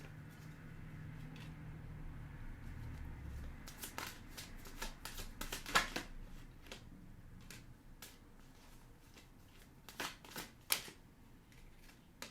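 Tarot cards are shuffled close by in quick bursts of crisp riffling and flicking, with pauses between rounds and a few sharp taps, fairly quiet overall.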